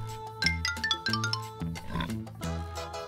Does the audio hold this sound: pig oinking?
yes